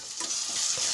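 Crushed shallots, ginger, garlic and green chili sautéing in a pan for a Kerala-style fish curry, a steady close sizzle with stirring scrapes throughout, no voices.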